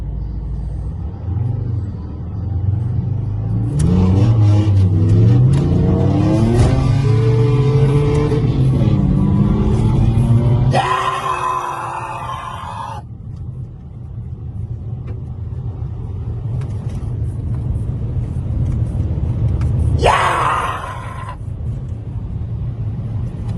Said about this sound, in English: I won a drag race in an Alfa Romeo diesel.